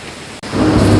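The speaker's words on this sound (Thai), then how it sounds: "ตอนนี้เรามาถึงน้ำตกชั้นที่ 3 กันแล้วนะคะ" Water crashes down the third tier of Pha Tat waterfall at Thong Pha Phum, Kanchanaburi, a broad roar that surges in loudly after a brief dropout and then holds steady.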